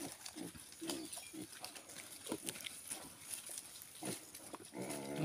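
Native piglets on an organic farm, with short grunts and squeals scattered irregularly at moderate distance over steady outdoor background noise, and a brief louder burst near the end.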